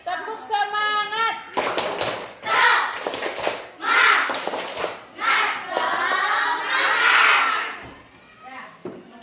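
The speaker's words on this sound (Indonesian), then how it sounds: "Kita tepuk semangat dulu untuk belajar." A classroom of children does a rhythmic clapping chant, bursts of patterned hand claps mixed with young voices chanting along, loud and close, after a teacher's short call.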